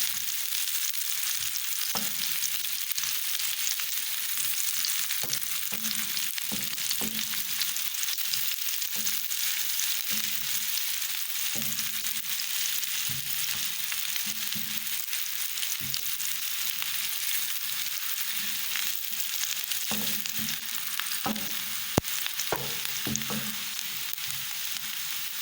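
Onions frying gently in a little ghee or cooking oil over low heat, a steady soft sizzle with occasional stirring clicks throughout.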